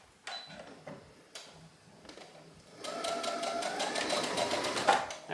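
A sewing machine stitching a blouse seam at regular stitch length, first in a few short bursts with pauses, then in a sustained fast whirring run near the mic, with no talk over it.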